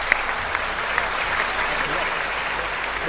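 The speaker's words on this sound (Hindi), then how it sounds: "तो एक बार जोरदार तालियां बजा।" A large audience claps loudly and steadily to welcome a poet at a Hindi poetry gathering, a thick, sustained roar of hands with a few sharper individual claps and faint voices mixed in.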